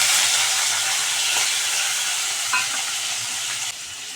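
Prawns fry in hot oil with five-spice, bay leaf and dried red chili, giving a loud, dense, steady hiss that stays close and continuous before easing slightly near the end.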